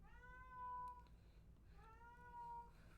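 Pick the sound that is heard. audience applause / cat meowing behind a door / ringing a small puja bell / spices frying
cat meowing behind a door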